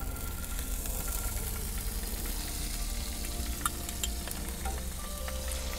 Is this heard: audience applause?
no